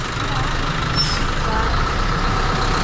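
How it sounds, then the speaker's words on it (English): A big truck rolls past on a jungle road, its engine a loud, steady low rumble close by with a faint air-brake hiss, while a person talks over it. "Big truck coming through here."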